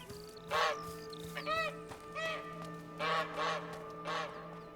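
A goose from the video game A Plague Tale: Innocence honks repeatedly, about six nasal calls in an irregular rhythm, fairly close, over a steady low in-game hum with no talk.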